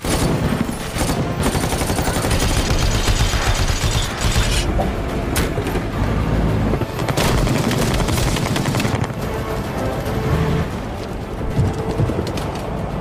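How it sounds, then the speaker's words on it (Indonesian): Loud, dense bursts of rapid automatic machine gun fire from a helicopter with mechanical clatter, sustained throughout with no talking. "helikopter masih mencecar mereka dengan tembakan"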